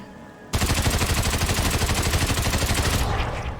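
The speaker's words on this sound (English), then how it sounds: "Okay, test number 2. With the SWAT 416 advanced suppressor on it." A suppressed SWAT 416 rifle in a video game fires one long rapid burst of about three seconds, a loud, dense string of evenly spaced muffled shots that ends abruptly.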